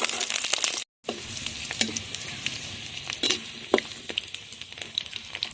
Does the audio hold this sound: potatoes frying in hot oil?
yes